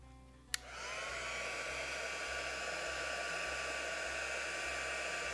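A heat gun used for embossing switches on with a sharp click, then blows a steady, loud, breathy hiss with a faint whine that holds level throughout, with no talking.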